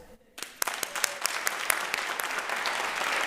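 A school district audience claps and cheers in a practice round at a State of the District address, building from a near-silent start into steady, dense applause with sharp individual claps on top.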